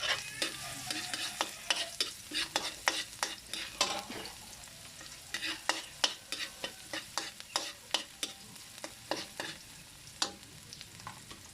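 Garlic sautéing in a pan for Kapampangan patatim, a continuous sizzle punctuated by rapid, rhythmic scraping and tapping of a spatula, close and fairly loud with no talking.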